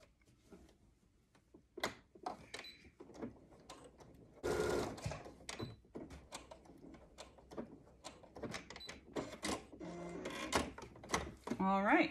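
A sewing machine stitches a fabric face mask in quick whirring bursts with short pauses between them, close and clear, while a person speaks intermittently.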